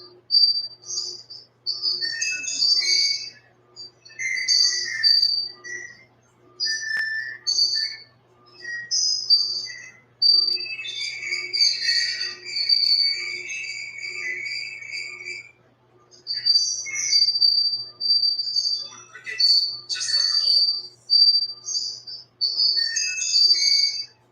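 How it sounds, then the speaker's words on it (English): Crickets chirping in bursts of high, rapid trills, fairly close, pausing briefly between runs, with occasional bird tweets mixed in. "More crickets, just like Cole."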